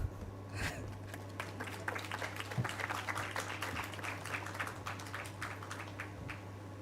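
Audience applause for panelists at a Jamaican preparatory conference on ending violence: steady, moderately loud clapping for about seven seconds over a low background hum, with no talking.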